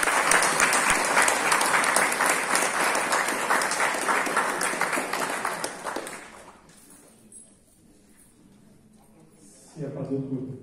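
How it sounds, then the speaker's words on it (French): Loud, dense audience applause at a tribute event for Texas Wilmar fills the first six seconds, then fades into a quieter lull with scattered noise before a brief burst of sound returns near the end. "Applaudissements s'il vous plaît."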